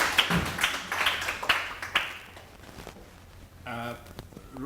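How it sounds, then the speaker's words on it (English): A small gathering at a Rotary meeting gives a brief round of scattered claps, a handful of distinct hand claps over about two seconds before fading, followed by a voice. "A clap for Rotarians."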